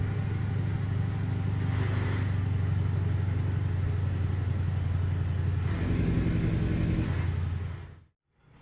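A Mack ENDDT865 diesel truck engine in American Truck Simulator rumbles loudly with a deep steady drone, rising twice as it revs and builds, then cutting off abruptly near the end.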